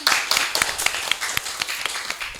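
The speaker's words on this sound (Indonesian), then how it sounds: "Tepuk tangan." Scattered hand clapping from a small group in an Indonesian dance studio podcast setting, a few sharp claps standing out over softer patter, close and moderately loud for a couple of seconds.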